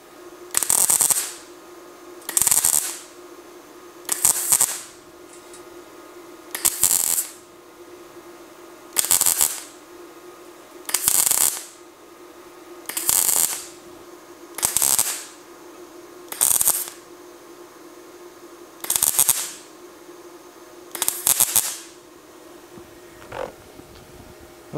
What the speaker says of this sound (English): Okay, I did weld it a little fast.